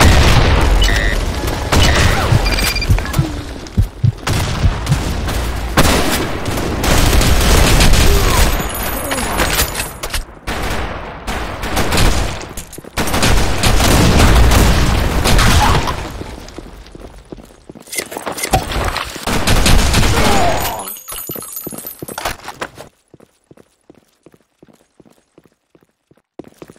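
Video game combat with grenade explosions and gunfire, heavy booms and bursts of rapid shots close and loud, dense and chaotic for most of the stretch before thinning to sparse quiet clicks near the end.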